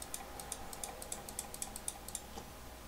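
Quick, light clicks in an irregular run, crisp and close, with brief pauses between bursts and no voices.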